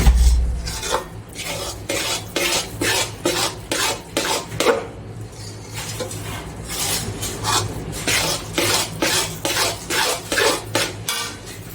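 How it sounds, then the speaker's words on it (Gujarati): A farali dish being stirred in a pan, Kathiyawadi style: a spoon scrapes and clanks against the metal in steady repeated strokes, close and loud, with no voices. "રીતે હલાવવાનું છે આપણે"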